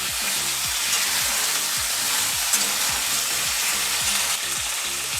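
Beans, eggplant and pointed gourd sizzle and fry in a pan with a steady, dense crackle and hiss, punctuated by rhythmic scraping stirs, with no voices.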